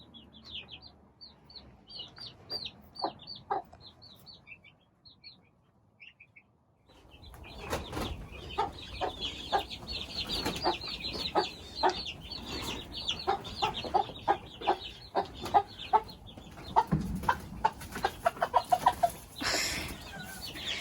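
Meat chicks clucking and peeping in a busy indoor brooder, a few sparse chirps at first, then a dense nonstop chorus of overlapping calls with some wing flapping and scuffling nearby.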